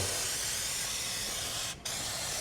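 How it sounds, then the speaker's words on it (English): Fluid Film rust inhibitor sprayed onto car front brake parts during a brake job on a Chevy Trax: a steady, loud aerosol hiss held for over two seconds with a brief break near the end, no voices. "Next I'm going to take some fluid film. We'll hose this down."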